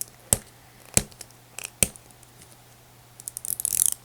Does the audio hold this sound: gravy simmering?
no